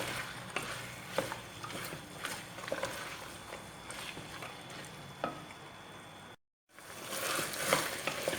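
A spoon scrapes and stirs fresh borlotti beans in a pan with repeated soft clinks and a light sizzle, pausing briefly before stirring resumes.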